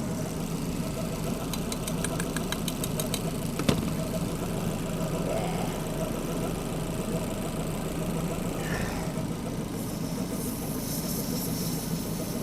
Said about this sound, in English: the compressor's kicking in and out